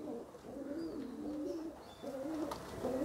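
Pigeons coo nearby in soft, repeated low rolling calls over quiet background noise, with no voices.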